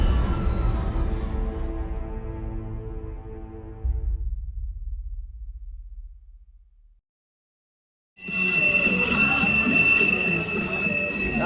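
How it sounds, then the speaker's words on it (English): A train rolls past a softball venue in Knoxville, its wheels squealing with a sustained high metallic whine. The rumble fades to silence midway, and then a loud, bright screech returns. "A train was indeed rolling through Knoxville,"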